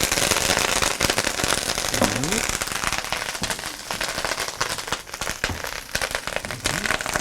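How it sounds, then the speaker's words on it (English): Brown mustard seeds pop in a hot pan, a dense, steady crackle of many sharp little bursts, close and loud, with a few faint voice fragments underneath. "As you can hear, Right. our brown mustard seeds are starting to pop."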